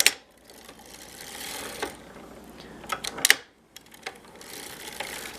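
A vintage sock knitting machine makes a pass with a run of quiet mechanical clicking and ratcheting, plus a few sharper clacks near the middle, all fairly soft with no voices.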